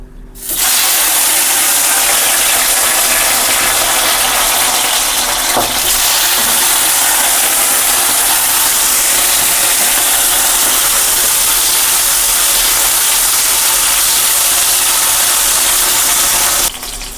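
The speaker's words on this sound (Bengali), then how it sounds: "তো বন্ধুরা অয়েল গরম হয়ে গেছে, এখন আমি ভেন্ডিটা হালকা ফ্রাই করে নেই।" Okra frying lightly in hot oil gives a loud, steady sizzle that holds without a break for about sixteen seconds, with a faint scrape partway through and no talking.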